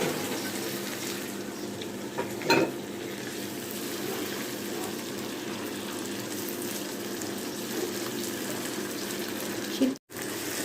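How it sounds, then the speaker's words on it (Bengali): A stone-ground spice paste with cardamom cooks with water in a pan for chicken roast, a steady, close bubbling hiss with one brief knock of a utensil partway through and no talk. "এখন মশলাটাকে পানি দিয়ে খুব ভালো করে কষিয়ে নেব"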